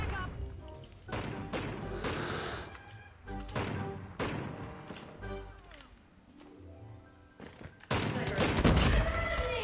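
A PKM machine gun fires in a video game in dense repeated bursts, loud and near, mixed with impacts and crashes across the clip.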